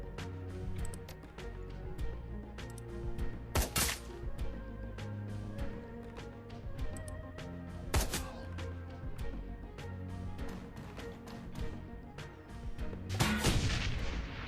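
Grenade launcher blasts boom in the Hong Kong cyberpunk combat game Shadowrun, with several loud explosive bursts spread over a rumbling, musical battle backdrop and no speech.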